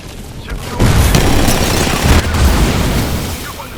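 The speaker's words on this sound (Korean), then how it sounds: "사격 개시" Gunfire from the video game Apex Legends erupts after a short lull into sustained, heavy automatic bursts with booming low impacts, loud and close, continuing for several seconds.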